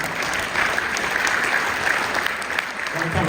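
An audience applauds for Dr. Benjamin Young at a 50th anniversary celebration, sustained dense clapping filling the room with a steady level and no pauses.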